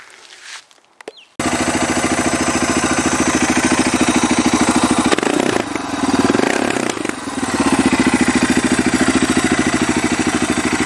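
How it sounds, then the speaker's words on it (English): A Suzuki DR650 motorcycle engine starts after a brief clatter and settles into a steady, loud, close idle while warming up, with a short dip in the middle before the even thumping resumes. "So I'll start up the bike and warm it up and come back to you shortly."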